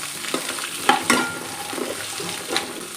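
Raw mixed vegetables for pulao are sautéed in a pan: a moderate sizzle runs under several distinct scraping stirs of a spatula, close and fairly loud, with no voices.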